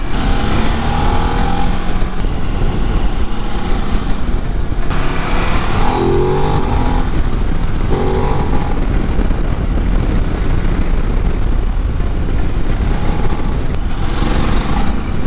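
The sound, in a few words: Ducati DesertX adventure motorcycle riding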